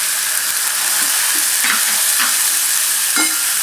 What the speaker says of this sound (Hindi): मसाला भूनते टाइम ही हम इसमें 1 बारीक कटा हुआ टमाटर डाल देंगे